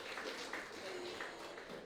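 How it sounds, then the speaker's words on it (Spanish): Applause from an audience at a graduation roll call, a steady dense wash of clapping that stays even and sustained throughout. "Dense un aplauso, jóvenes"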